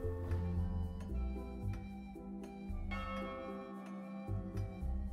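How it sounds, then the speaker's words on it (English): Clock tower bells ring out at midnight in the pirate video game Sea of Thieves, a sustained resonant peal with overlapping strikes ringing continuously and loudly throughout, with no talking. "You'll know you have successfully completed this when the clock tower's bells start to ring."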